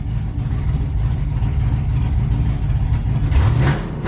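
Close, loud, rumbling idle from an LS-swapped S10 drag truck engine with throttle hang, then a quick rev that climbs in pitch and stays up near the end.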